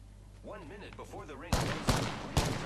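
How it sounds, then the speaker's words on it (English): Gunfire in a video game strikes the player in three sharp, loud bursts in the second half, after a stretch of voice-like chatter. "Why am I getting shot in the head then?"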